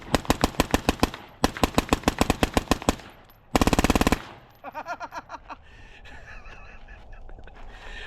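Rapid strings of gunshots through a Surefire RC2 Mini suppressor, fired in fast even bursts, then one dense burst, and a few slower shots trailing off into quiet.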